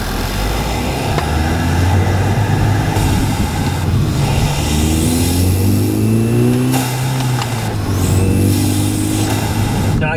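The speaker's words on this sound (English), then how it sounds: "I'm just tapping the throttle." A car engine fitted with a Unitronic cold air intake, the throttle tapped in several short blips that rise and fall in pitch, loud and close, with induction whoosh over a rough idle.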